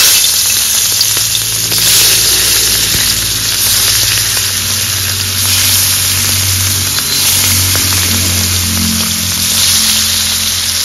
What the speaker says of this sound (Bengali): এবার তেলে মাছগুলো ছেড়ে দেব।